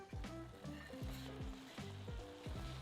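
Leftover turkey sizzles loudly in a hot risotto pan, a dense steady frying hiss with a rhythmic stirring scrape repeating about twice a second, close and with no talking.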